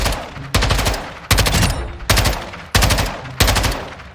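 Automatic gunfire from a Modern Warfare 2 video game gun, loud bursts starting at regular intervals of about three quarters of a second, each a dense rattle of rapid shots that fades slightly before the next burst hits.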